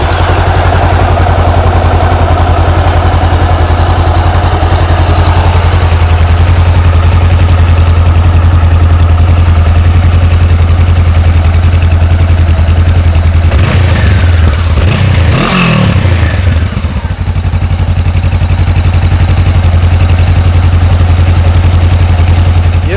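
A Honda CB500F motorcycle with its stock exhaust idles steadily up close, a smooth, loud, even engine drone that continues throughout with a brief blip of louder revving midway.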